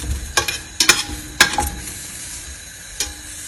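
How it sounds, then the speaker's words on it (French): Beef chuck, short rib and marrow bones grill for traditional Vietnamese pho, giving a steady sizzle with several sharp crackling bursts and spits close by; no voices. "Donc là, on fait bien griller."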